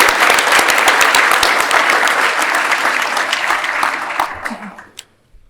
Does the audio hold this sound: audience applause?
yes